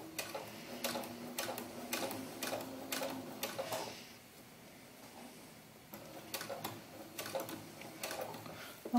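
A sewing machine stitches bias tape onto fabric in two quick bursts of rapid ticking, separated by a short quieter pause.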